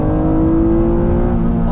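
A 1996 Acura NSX engine revs hard toward its 8,000 RPM redline, a loud sustained high-pitched engine note heard from inside the car, with a voice talking over it.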